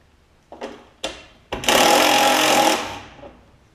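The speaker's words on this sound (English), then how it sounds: "I'll go ahead and take these 3 screws off of here as well for the gas tank." Screws being backed out of the gas tank on a Statesman push mower with a Briggs Quantum engine: three short mechanical bursts, then a sustained buzzing whir lasting about a second that trails off, heard close and loud.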